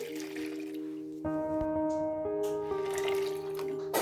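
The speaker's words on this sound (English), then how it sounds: "in a large bowl, pour in 2 cups of warm milk" Warm milk poured into a large bowl for a dough: a steady, close pouring stream with a rising tonal gurgle as the bowl fills, heard on its own without talk.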